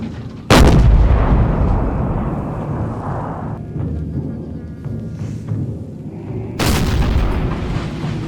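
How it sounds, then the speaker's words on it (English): French cannon fire in battle: two heavy booming blasts, one early and one near the end, each followed by a long rolling rumble that fills the space between them. "the slaves' right flank is being battered by French cannon fire"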